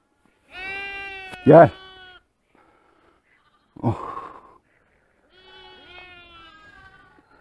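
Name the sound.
lambs bleating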